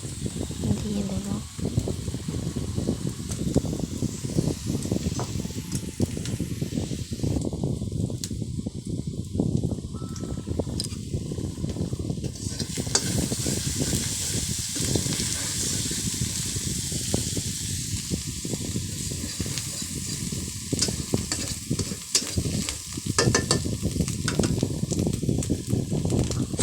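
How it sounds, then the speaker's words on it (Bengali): Small pond fish fry in oil with mustard and green chili paste while being stirred, giving a steady, close sizzling hiss that runs the whole time, with a voice talking over it. "ভালো করে নেড়ে নেব, হালকা করে ভেজে নেব।"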